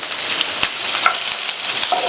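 Sliced onion and curry leaves sauté in hot coconut oil with a continuous close sizzle and a few soft stirring clicks, with no voices over it.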